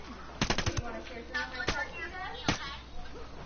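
Gunfire in the video game Ghost Recon Wildlands: a rapid burst of sharp shots, then a few separate single cracks, set against game ambience and voices talking.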